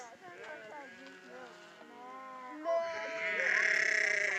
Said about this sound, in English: There's some sheep way out there. They're still coming in.